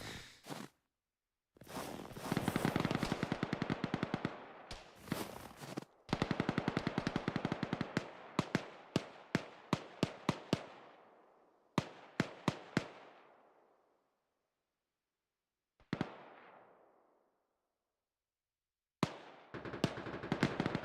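Gunfire in the military video game Arma, with sustained bursts and single cracking shots in rapid sequence, some close and loud, followed by echoing tails and scattered isolated reports.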